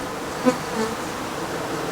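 Bees buzz steadily and close by at a swarm trap, a dense continuous hum with a brief louder pass of a single bee.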